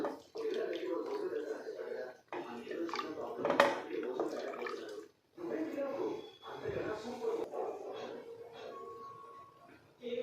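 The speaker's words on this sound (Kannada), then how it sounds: "ಇದರಲ್ಲೇ ನಾನಿಲ್ಲಿ ಬಿಸಿ ಮಾಡ್ಕೊಂಡು ಇಟ್ಕೊಂಡಿರೋ ನೀರನ್ನ ಹಾಕ್ಕೊತಾ ಇದ್ದೀನಿ" Hot water is poured into a pot of chicken yakhni pulao in several separate splashing bursts, each a few seconds long with short pauses between, close and fairly soft.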